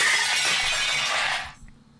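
A glass shattering as it falls in a kitchen, a bright sustained crash and tinkle of breaking pieces for about a second and a half before cutting off into near silence, with a faint clink after.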